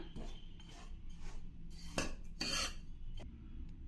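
Semolina and powdered sugar stirred and fried in a pan make quiet scraping and clinking of a spoon against metal, with a few brief sharper scrapes over a low background hum.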